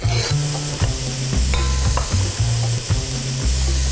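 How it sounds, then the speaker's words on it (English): Diced bacon sizzles loudly in a pan on medium heat, a close, constant frying crackle broken by repeated scraping and stirring strokes. "Bacon is going in. We're gonna cook it on medium heat until it's nice and brown."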